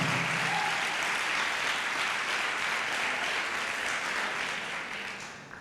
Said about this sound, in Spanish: Se le va a aplaudir, aplaudir fuerte al Rey de Reyes.